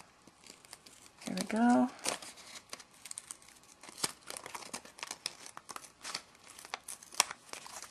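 Scissors snip through card paper while a Halloween graveyard card is made, a brief crinkly cutting burst near the start, followed by scattered light paper handling and small taps, with a person speaking briefly.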